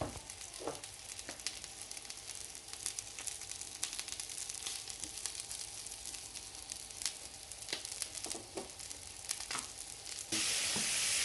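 Rump steak seasoned with salt and pepper sizzling in a frying pan, a dense, continuous crackling hiss with small pops, steady throughout and slightly louder at the very end.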